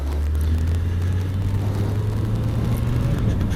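A Suzuki GSX750F motorcycle engine runs while being ridden, a loud, steady low drone and whir with wind rumble and no speech.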